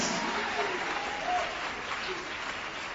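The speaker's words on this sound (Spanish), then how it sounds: "Dale ese aplauso de alabanza a Jesús de Nazaret." A church congregation applauds in praise, a continuous wash of clapping that stays fairly even and moderately distant, with a hint of voices beneath.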